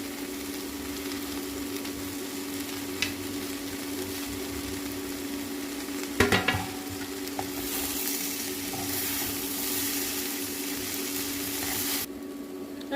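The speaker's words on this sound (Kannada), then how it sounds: "ಇದೊಂದು 2 ನಿಮಿಷ ಫ್ರೈ ಮಾಡಿಬಿಟ್ಟು ಇದ್ರ ಮೇಲೆ ಕೊಬ್ಬರಿ ತುರಿ ಹಾಕ್ಕೊಳ್ಳೋಣ" A vegetable palya stir-fry sizzles steadily in a pan while being stirred, with a sharp scrape or clatter of the utensil around midway; the frying hiss runs continuously throughout with no talk.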